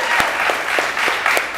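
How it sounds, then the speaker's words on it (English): Brief, steady applause from a summit audience honoring two young leaders, a loud wash of many hands clapping with a few sharper individual claps standing out. "So maybe a round of applause and mahalo for these two young leaders."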